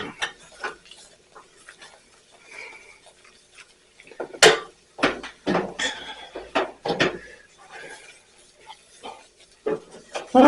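A spoon scrapes and knocks around a pot as a flour roux for cream of asparagus soup is stirred, in short uneven bursts that are close and moderately loud with quiet gaps between.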